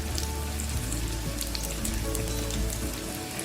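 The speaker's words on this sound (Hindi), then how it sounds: "बस इसको इसी तरह से शैलो फ्राई करेंगे।" Shami kebabs shallow fry in oil in a pan, giving a steady, dense sizzle with crackling pops throughout, close and loud with no voices.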